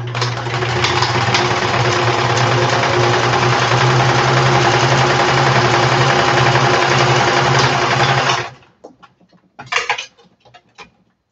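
A sewing machine stitches the fabric body of a butterfly costume in one loud, steady whir that runs for about eight seconds and then stops, followed by a few faint clicks and a short mechanical burst.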